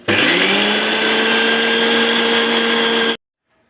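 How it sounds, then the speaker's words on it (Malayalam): A kitchen mixer grinder whirs loudly and steadily for about three seconds as it grinds grated coconut with cumin seeds for erissery, a pumpkin and lentil curry, then stops abruptly into silence. "തേങ്ങ എടുത്തിട്ടുണ്ട് കുറച്ച് ജീരകവും ഇട്ട് അത് നമുക്ക് അടിച്ചെടുക്കാം"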